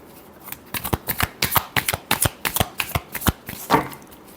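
A deck of tarot cards is shuffled up close, a quick run of crisp riffling flicks in steady rhythm, alone without talk.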